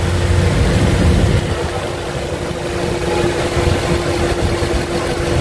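A 2003 Honda Civic engine idles nearby with a steady low hum and a constant mid-pitched tone, a little louder in the first second and then even, with no speech.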